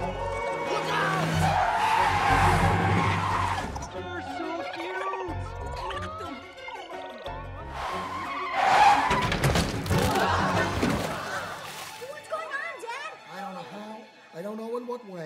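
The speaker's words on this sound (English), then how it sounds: "Cars have to stop. Stop traffic, Cuddle Party!" Cars brake hard and tires squeal in an animated traffic scene, with repeated skidding screeches and thuds mixed with excited voices and music throughout.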